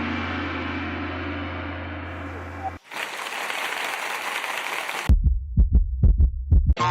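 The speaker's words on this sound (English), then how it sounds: "drum roll, heartbeat, fast," A rapid, thumping heartbeat pulses in a quick steady rhythm after a stretch of other effects, loud and close.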